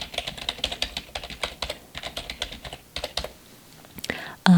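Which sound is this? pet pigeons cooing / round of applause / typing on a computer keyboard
typing on a computer keyboard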